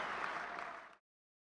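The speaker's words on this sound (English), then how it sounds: "A roar of applause burst from the crowd" Brief wash of applause and cheering from a crowd, loud and dense for about a second before cutting off abruptly into silence.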